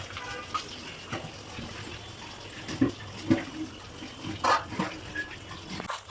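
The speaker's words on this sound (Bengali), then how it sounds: "তো এখানে আমি 250 ml পানি দিয়ে দিলাম বোতল মেপে" Water is poured from a measuring bottle into a pan, a soft continuous trickle and splash with a few brief clanks, close by and moderately loud.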